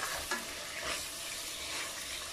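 Meat and onions fry in a pan with a steady, close sizzle, broken by a few soft stirring scrapes, no voices over it.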